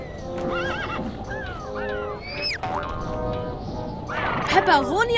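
A pony in the Lego Island 2 video game whinnies in bright, rising and falling cartoonish neighs over rhythmic hoof clip-clops, with quacking game sounds mixed in and a loud burst of whinnying near the end.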